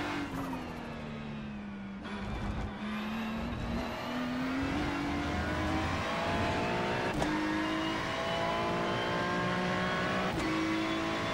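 GT3 race car lapping in the iRacing simulator at Le Mans, its engine droning steadily and loud with rising and falling revs through gear changes, plus occasional sharp shifts, continuous with no voices.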